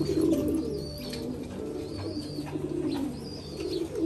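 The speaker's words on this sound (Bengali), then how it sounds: "এই ধরে দেওয়া আছে কিছু কবুতর।" Pigeons coo in a breeding loft of paired Giribaj birds, giving soft, repeated, close-up calls at a steady rhythm over a low background hum.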